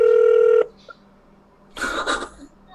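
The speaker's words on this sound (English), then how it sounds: "It's ringing more" Telephone ring tone heard over an ongoing call, one steady electronic ring burst at the start, then near-silence, followed by a brief muffled noisy segment.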